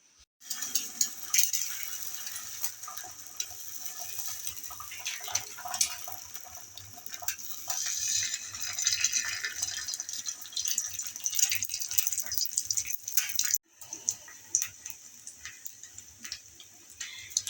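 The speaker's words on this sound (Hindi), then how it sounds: "एग फ्राई कर रही हूँ" An egg half-frying in a pan gives a thin, continuous sizzle with fine spattering ticks, faint and steady for most of the time, with a brief drop near the end before the crackle resumes.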